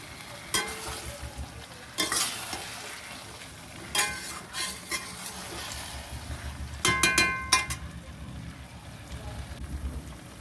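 Large potatoes are stir-fried in a pan, with repeated bursts of sizzling and scraping from a spatula at irregular intervals, and a voice speaks in between.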